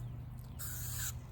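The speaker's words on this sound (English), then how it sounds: "oh, bug spray. Hold on." Bug spray from an aerosol can in a garden, a single short hissing burst of about half a second, close and fairly loud over a low steady background hum.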